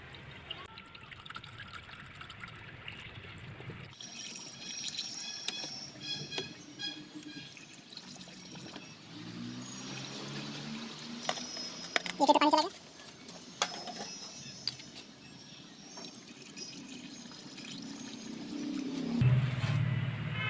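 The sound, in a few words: pouring water into a car radiator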